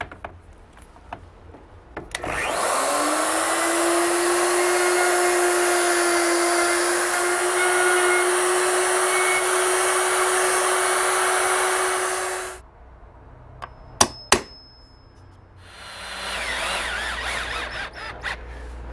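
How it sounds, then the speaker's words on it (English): Router cutting hinge mortises into a wooden door jamb with a hinge jig, a loud high-pitched motor whine that spins up, holds steady for about ten seconds, then winds down, followed by a few sharp clicks and handling noises. "Now I'm ready to route out for the hinges."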